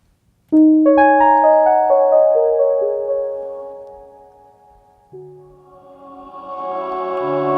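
A soft note from an Expressive E Osmose synthesizer played with a light touch blooms and slowly fades, then a second, gentler tone enters and swells slightly; clean and close, with no other sounds.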